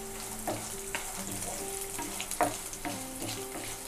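Cashews fry in a pan toward golden, giving a soft, continuous sizzle with occasional light clicks and spoon taps over a low background hum, and no one speaks.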